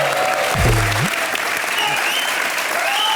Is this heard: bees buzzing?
no